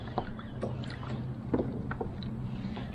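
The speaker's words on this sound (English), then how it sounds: "all I'm doing is just readjusting myself every so often and just paddling very gently" A kayak is paddled gently on calm water while fishing, with soft intermittent dips and light splashes close by, faint against a quiet background and low wind.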